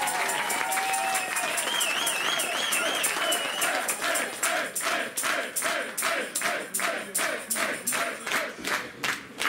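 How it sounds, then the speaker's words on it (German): A crowd at a German ice hockey press conference, Saale Bulls versus Füchse Duisburg, bursts into applause and rhythmic clapping with whistles and cheers, steady and loud, settling into a pulsing clap-along. "ein riesen Applaus für dieses Meisterschaftsrunde"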